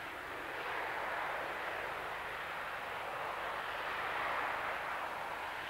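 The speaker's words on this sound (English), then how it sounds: "The two aeroplanes at the hover." Two RAF aeroplanes hovering at a 1974 air display give a continuous, loud, broad jet roar that swells slightly and never lets up.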